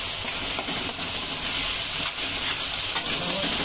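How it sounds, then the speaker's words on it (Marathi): Cleaned prawns coated in ginger-garlic paste sizzle in a hot pan, a steady dense frying hiss with faint stirring taps, close up and moderately loud with no voices. "त्यानंतर जो आपला फ्रॉन्स आहे तो आपण साफ करून अद्रक लसणाची पेस्ट लावलेली आहे ते आपण याच्यात टाकूया"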